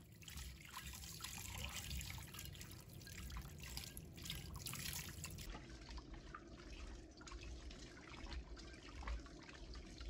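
Running tap water rinses soaked beef pieces in a bowl, a faint, steady trickle with light splashing that continues throughout without any voices.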